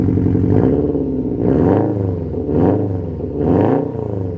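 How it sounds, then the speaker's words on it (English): A 2020 Subaru STI fitted with a Remark catback exhaust revs repeatedly, four throaty rising-and-falling blips over a rumbling idle, loud and close. "we're going to give it a good old rev"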